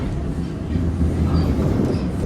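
A Toronto TTC subway train rumbles along the rails with a low, steady roar and faint rhythmic clatter, close by, with no talking.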